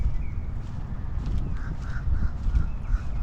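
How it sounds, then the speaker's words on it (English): Birds call repeatedly at moderate distance in Metropolitan Park, Jacksonville, Florida, their short tonal cries rising over a steady low outdoor rumble. "Listen to the birds."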